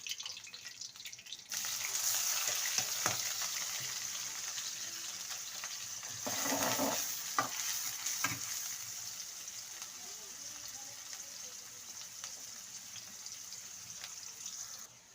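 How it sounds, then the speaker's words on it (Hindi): Onions go into two spoons of hot oil in a kadai for an aloo curry and fry with a soft, steady sizzle that starts abruptly and carries on quietly, with a few close utensil clinks and stirs midway. "अब इसी में मैं प्याज डालूंगी।"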